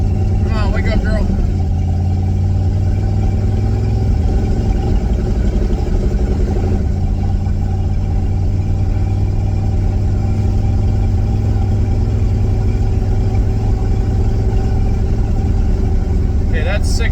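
Buick 350 V8 engine running roughly, a loud, close, continuous rumble with uneven sputtering and occasional revs, and a voice speaking briefly near the start and end.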